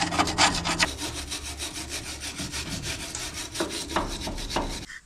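Thread cleaning on parts from a 1970 GMC truck makes a close, rapid scraping and brushing in quick rhythmic strokes that run steadily and end with a few sharper scrapes, with no one speaking.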